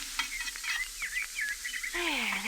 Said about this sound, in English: How long do I have to listen to them sizzling there on the griddle?